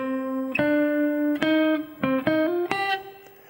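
A clean electric guitar plays a short solo lick, a handful of sustained picked notes with slides and bends, close and alone with no talking.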